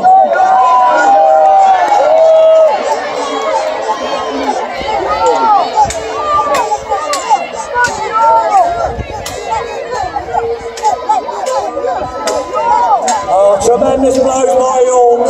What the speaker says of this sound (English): Come on, cheer York on.